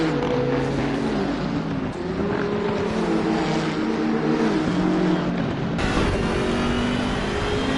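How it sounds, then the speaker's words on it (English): Onboard a BMW 6 Series race car chasing a Nissan GT-R: a loud, steady engine drone with shifting tonal harmonics, continuous throughout with a slight change in character near the end. "it is the BMW chasing the Nissan"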